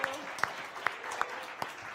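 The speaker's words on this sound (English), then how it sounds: "Give it a big applause again." Audience applause at a late-night show fills the room as a steady patter, with a few louder individual claps standing out close by.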